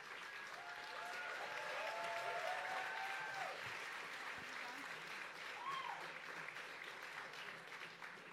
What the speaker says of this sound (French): Et une bonne main d'applaudissements.